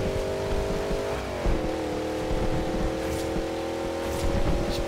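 A V8 SUV engine in the racing game Forza Horizon 2 droning at high revs, briefly dipping in pitch at a gear change before climbing again, loud and steady with faint tyre noise.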